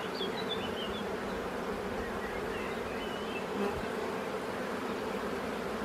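Honeybees in a queen-rearing starter hive packed with bees, a dense, steady buzzing drone that holds close and even throughout, with no talking.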